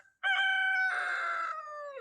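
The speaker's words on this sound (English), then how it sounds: "That's the first time that one's crowed." A late-blooming young rooster crows once, a single loud, clear cock-a-doodle-doo lasting nearly two seconds with a drooping end, close by and alone.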